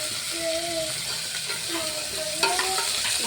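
Chopped tomato stirred into frying onions in a pan for sambar, a steady close sizzle and hiss with scraping stir strokes and a sharper clack near the end, while a woman hums along softly.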